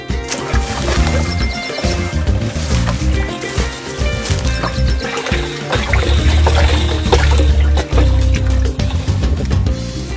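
Water churns and splashes steadily as fertilizer is mixed into about 50 litres of water for a melon crop, a loud continuous sloshing and gurgling that runs throughout without pause.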